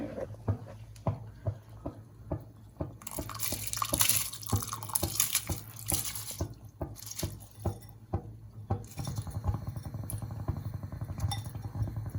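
Hot water is poured into a vessel of soaking rice for mutton biryani. A few dripping clinks lead into a loud splashing pour midway, then a softer steady trickle.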